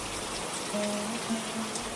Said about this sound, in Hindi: बारिश अब हल्की फुहार में बदल चुकी थी।